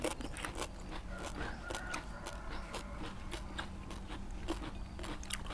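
Crispy roast suckling pig skin crunches sharply under the bite, a near, steady run of brittle cracks and chewing noises with little else heard.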